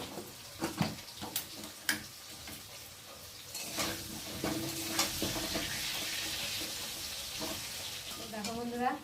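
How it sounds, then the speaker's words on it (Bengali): Potatoes frying in oil in a pan, giving a soft continuous sizzle broken by sharp stirring scrapes and clicks, fairly quiet and close, with a brief voice near the end. "আলুগুলো ভাজা হয়ে গেছে"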